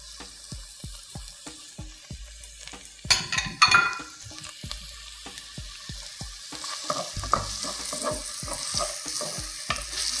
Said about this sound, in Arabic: انا عايزه بس البصله ايه يبتدي صوتها يطلع